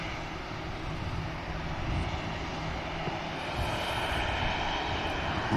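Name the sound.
EasyJet airliner taxiing onto Victor Alpha taxiway, Manchester Airport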